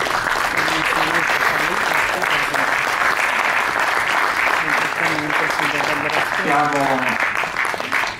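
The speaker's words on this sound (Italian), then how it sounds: "un applauso." Sustained audience applause fills the room at a local presentation event in Cortina d'Ampezzo, steady and dense throughout, with a voice speaking over it and rising near the end.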